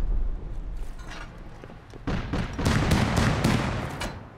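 The Bradley APC in the Rust survival game fires its cannon in a burst of heavy, overlapping booming blasts that build louder and denser over a few seconds, with no talk.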